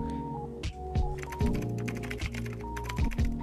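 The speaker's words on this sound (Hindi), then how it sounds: "we have a very nice typing effect in our text" Typing sound effect laid over on-screen text during a video edit: a steady run of crisp keyboard clicks over a low tonal music bed, with small thumps recurring throughout, no talking.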